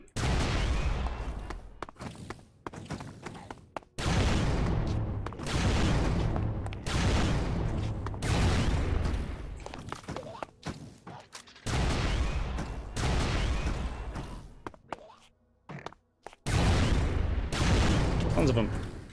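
Sonic rifle firing at dragons in the Minecraft Manufactio modpack, heard as a series of long, loud, booming bursts of weapon fire separated by short gaps.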